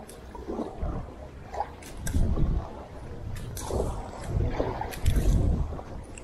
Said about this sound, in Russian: Уверенно идет против хорошего порыва ветра